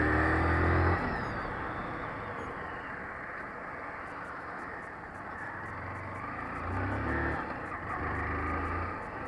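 A motorcycle engine drones steadily while riding, a close rumbling hum that swells and dips slightly with throttle, with wind noise and no talking.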